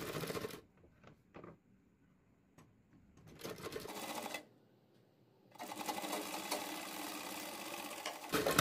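A sewing machine stitches a blouse back-neck panel in short rattling bursts separated by quiet pauses, ending with a longer steady run of stitching.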